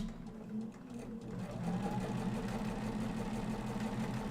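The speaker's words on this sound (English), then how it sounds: "So we're going to come over and we are going to sew." A sewing machine stitches fabric for a temperature ring quilt project, starting with a few hesitant stitches, then running as a steady rapid mechanical hum and rattle, close and moderately loud.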